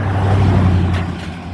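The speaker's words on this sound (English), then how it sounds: "I'm sorry about the road noise, man." Steady low road rumble from passing vehicles, a loud continuous drone with a brief hiss of a truck passing close.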